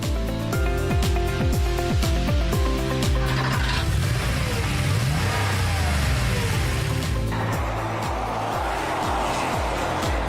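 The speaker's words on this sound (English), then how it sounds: "Drivers, start your engines!" Race car engines start and rev hard, a loud, continuous roar with rising and falling pitch, layered over a rhythmic musical backing throughout.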